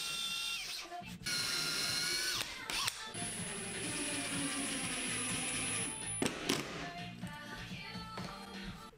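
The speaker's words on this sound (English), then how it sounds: "Then I could drill 4 holes to secure the dartboard in place." A power drill bores holes through a dartboard template into a wooden cabinet, with a steady whirring run and brief stops and restarts, close and moderately quiet.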